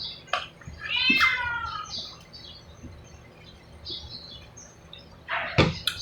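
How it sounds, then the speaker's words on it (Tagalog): A cat meows a few times, short and fairly close, with quiet outdoor background and faint chirping between the calls. "Ang pusa nito ay ayoko kasi nangangagat"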